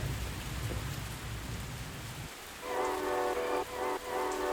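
Steady rain pours down during a storm, heard from indoors, then a rumbling roll of thunder overlaps with a bright tonal hum that cuts in and out twice near the end.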